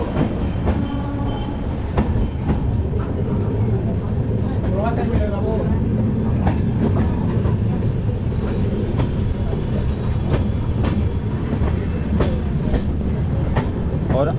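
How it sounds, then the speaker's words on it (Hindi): West Bengal Sampark Kranti Express pulling out of Gaya Junction, a steady loud rumble of rail cars with clickety-clack wheel beats running throughout at close range, with no talk over it. "अपने निर्धारित समय से 10 मिनट के डिले के साथ में अब हमारी ट्रेन निकल चुकी है गया जंक्शन से।"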